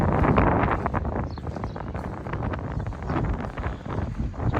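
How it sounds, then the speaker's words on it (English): Strong wind buffets the microphone at an ancient city site by the Mediterranean, a loud, ragged roar with gusty swells and rumbling low noise, no talking heard. "quite windy."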